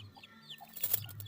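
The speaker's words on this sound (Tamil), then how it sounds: "காலையில நேரம் கோழியெல்லாம் நீக்கி விட்டுட்டு" Chickens just let out in the morning cluck softly outdoors, scattered low calls rising into a brief cluster of louder clucks.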